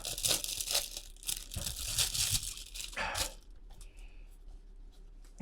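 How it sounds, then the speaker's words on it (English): Plastic packaging crinkles and rustles loudly up close while a set of dice is unboxed, with a busy burst of crackling for about three seconds before it eases into quieter handling. "sorry about the crinkling"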